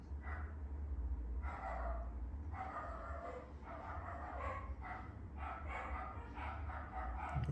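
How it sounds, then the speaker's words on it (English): Several dogs bark excitedly in bursts somewhere nearby but muffled, the yaps and woofs rising over a low indoor hum. "Oh boy, the dogs are going crazy."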